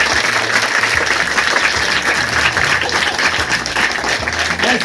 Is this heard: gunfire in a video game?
no